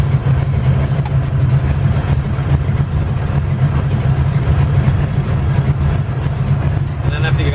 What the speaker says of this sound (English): after you got oil pressure and the motor is running, I bring it back to about 500 RPMs